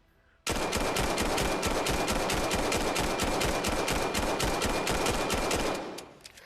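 Glock 17 pistol firing in the VR shooter VAIL VR, heard as a loud, rapid, evenly spaced string of shots that runs for about five seconds, then cuts off abruptly.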